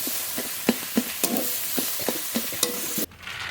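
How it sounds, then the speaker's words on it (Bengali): Red amaranth greens stir-fried in a pan: a continuous sizzle punctuated by a quick, regular series of spatula scrapes and taps, cutting off abruptly near the end; no talking. "এবার নেড়ে নেড়ে ভেজে নেবো শাক"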